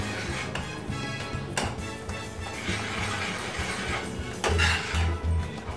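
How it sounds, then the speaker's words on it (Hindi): A spoon stirring jaljeera mint drink in a pot, continuous scraping and clinking of metal against metal with a few sharper knocks on the rim near the end, close and without talk. "अब इसे अच्छी तरह से मिक्स कर लेना है।"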